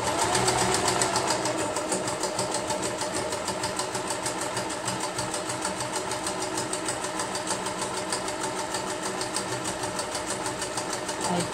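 A sewing machine runs continuously stitching fabric with upper thread tension at 3 and stitch length at 2, giving a fast, even mechanical rattle close by with no talk.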